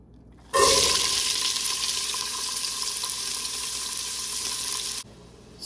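Vegetables hitting hot oil for an asparagus and fennel soup base, a sudden loud hiss that settles into a steady, bright sizzle for several seconds before abruptly stopping.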